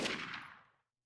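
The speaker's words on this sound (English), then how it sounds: "There was the dull roar of a gunshot" A single gunshot in the game 428: Shibuya Scramble, a sharp blast with a reverberant tail that fades out within about a second, followed by silence.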